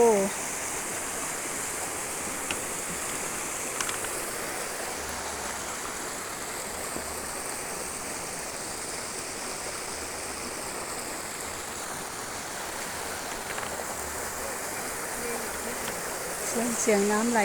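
A waterfall spills down beside a mountain temple in Thailand, giving a steady, rushing wash of flowing water that stays even and fairly close throughout.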